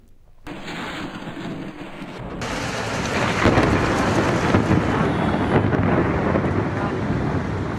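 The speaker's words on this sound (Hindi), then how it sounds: "गरज चमक के साथ मूसलाधार बारिश का सिलसिला" A deep rumble of thunder rolls beneath steady, heavy winter rain in Karachi that builds louder and denser, with gusty wind noise buffeting the microphone.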